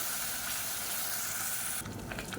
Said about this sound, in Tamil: சேர்த்துட்டு மீடியமான ஃப்ளேமில் வதக்கி விட்டுக்கலாம்.